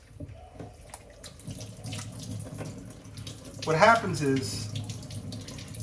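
Tap water runs steadily as gold Rolex watches are rinsed under it, a close, continuous splashing stream that briefly gets louder and gurgles midway, with someone talking over it.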